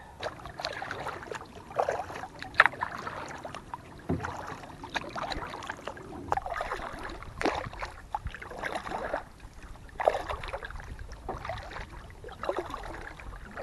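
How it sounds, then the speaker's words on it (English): A kayak paddles across water with rhythmic splashes and drips from each stroke, close and moderate, repeating every second or two under light wind noise. "Let's go for a paddle, shall we?"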